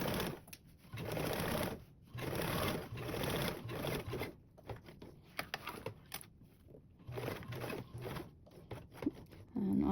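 A sewing machine stitches across a panel of a convertible duffle bag, running in fast whirring bursts with short pauses between them, close and steady.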